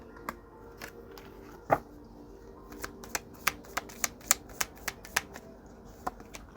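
Oracle cards being shuffled by hand, a soft riffling rustle followed by a quick run of crisp, evenly spaced slaps and flicks, close and fairly quiet with no talking.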